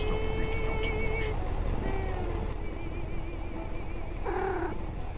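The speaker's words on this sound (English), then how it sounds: "We have a kitty! Oh my goodness." A cat in the video game Night Bus gives a few short, tonal meows over steady engine rumble and game music, with a louder wavering cry near the end.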